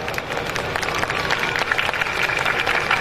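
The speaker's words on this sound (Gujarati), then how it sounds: "હું સર્વને વિનંતી કરું છું કે જોરદાર તાળીઓથી તેમનું અભિવાદન કરે" An audience claps at a school annual concert at Auxilium Convent High School, Vadodara, a dense, steady wash of applause filling the hall for about three seconds with no one speaking.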